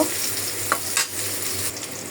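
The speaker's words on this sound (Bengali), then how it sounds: "এখন টমেটোও কষানি হবে, মশলাও কষানি হবে।" Tomatoes and spices sautéing in a pan, a soft continuous sizzle broken by a few sharp scraping stirs of a spoon, fairly close and at low volume.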